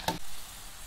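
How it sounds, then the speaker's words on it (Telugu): Tempering spices frying in hot oil for a tomato pickle, a brief sharp crackle followed by a soft steady sizzle, close and with no talk. "రండి, తాలింపు ఏగుతుంది."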